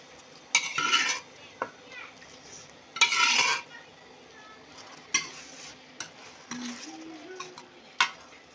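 A utensil scrapes and stirs pre-cooked peas into a pan of turmeric-spiced frying food, with intermittent metallic clinks and scrapes in short bursts over a soft sizzle, close and moderately loud.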